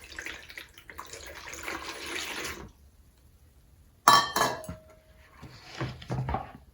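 Water poured from a tap into a bowl holding curd, for soaking cut banana flower in a home kitchen: a steady splashing pour for a couple of seconds, a pause, then a clatter of a vessel and more running water.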